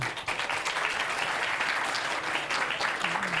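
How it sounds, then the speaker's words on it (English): Audience applause for the keynote speakers at the CITSM 2025 conference: a short burst of steady clapping from a seated crowd, moderately loud and even throughout. "Give applause to all of keynote speaker."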